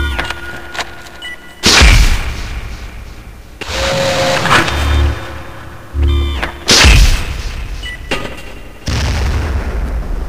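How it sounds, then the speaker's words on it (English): Grenade launcher fire in a video game: a string of heavy booming launches and blasts, each a sharp loud thump with a decaying rumble, spaced a second or two apart with no talk. "Using a timed trigger setting, you can make your mule into a grenade launcher"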